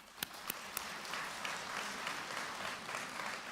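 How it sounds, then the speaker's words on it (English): An audience at a conference opening ceremony bursts into sustained applause, a dense wash of clapping after a few sharp early claps, steady and moderately distant with no speech. "Let us clap for this achievement."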